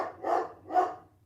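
A dog barks twice indoors, two separate, moderately loud, slightly muffled woofs about half a second apart with a low hum in the background.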